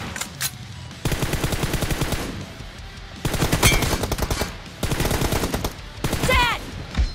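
Automatic weapon fire in the Free Fire video game during a one-on-one team deathmatch, with dense rapid bursts separated by short gaps, loud and close, and a brief quieter stretch between volleys.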